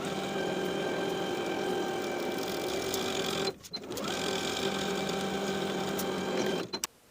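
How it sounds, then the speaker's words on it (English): A sewing machine stitches the side seams of a pair of shorts at a 3/8 inch seam allowance, running at a steady, even hum with a short pause near the middle and a brief stop just before the end. "Sew both side seams with a 3/8 inch seam allowance"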